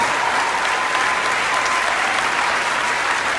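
A crowd gives sustained, loud applause to honor standing military veterans during a political address, steady clapping that fills the whole stretch without a break.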